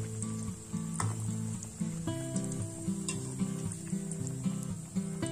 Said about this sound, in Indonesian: Panaskan minyak, setelah panas langsung saja goreng seperti ini.